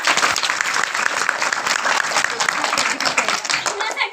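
Audience clapping at a women's day lecture, dense sustained applause throughout with a voice talking over it.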